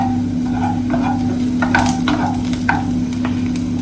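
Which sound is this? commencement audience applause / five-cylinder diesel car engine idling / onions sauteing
onions sauteing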